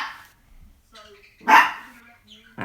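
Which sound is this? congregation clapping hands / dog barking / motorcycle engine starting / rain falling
dog barking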